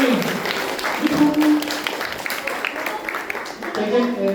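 Audience clapping fills an anime convention hall during a cosplay contest prize ceremony, a continuous wash of applause mixed with people talking.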